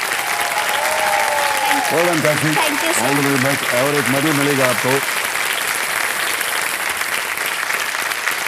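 Sustained studio audience applause for a junior contestant on the KBC quiz show, a dense steady roar that continues while someone speaks over it in Hindi and English.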